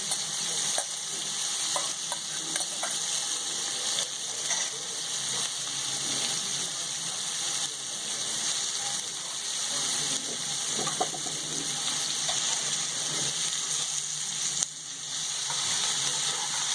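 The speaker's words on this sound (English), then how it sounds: "You saute your onion" Diced onions sauté alongside searing meat in a hot pot for a Peruvian-style pot roast, giving a loud, continuous sizzle with occasional stirring scrapes and no talking.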